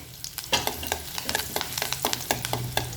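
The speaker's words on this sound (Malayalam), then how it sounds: "ഇതിലേക്ക് പച്ചമുളക് അരിഞ്ഞിട്ട് കൊടുക്കാം" Sliced green chillies fry in hot coconut oil for a ginger curry, with a steady sizzle broken by crackling pops and spoon stirs at close range. No one speaks.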